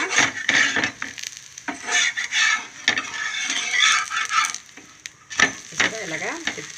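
A curry-leaf spice powder dosa cooks on a pan, with a close hissing sizzle and repeated scraping and spreading strokes of a spatula across the hot surface, in uneven bursts.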